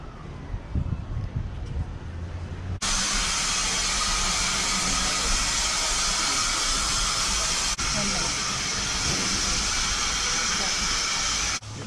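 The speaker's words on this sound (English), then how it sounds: "As the train pulls out of the station" A loud, steady hiss of steam from an 1880 steam train pulling out of a station in South Dakota starts abruptly and runs continuously, briefly cut once, after a short stretch of quieter rumble and voices.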